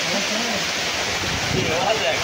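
Heavy rain pouring down on a Bangladeshi village as a dense, steady roar, with a voice faintly speaking underneath.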